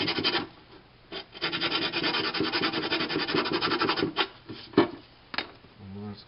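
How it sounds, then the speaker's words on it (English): A strip of 80 grit sandpaper wrapped on a wood stick rubs back and forth in long rasping strokes, close and steady, with short pauses and a few scrapes near the end. "put a little 80 grit piece of sandpaper on there. And that works really good to go and sand any width that you need"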